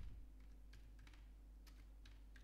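Fingers tapping out a command on a computer keyboard, a quick uneven run of light key clicks close by over a low steady hum, with no talking.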